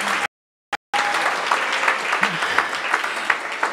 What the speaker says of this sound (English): Can we please give another round of applause for this panel?